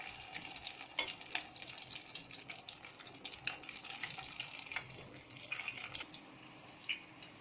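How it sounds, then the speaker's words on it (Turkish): Içli köfte fry in hot oil, a faint continuous sizzle with scattered crackles and pops, quieter toward the end. "Süzüyoruz birazcık ve kızan yağımıza koyuyoruz."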